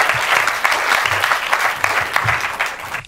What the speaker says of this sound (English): can we leave there some unfiltered applause, please, for our final finalist, John Meshach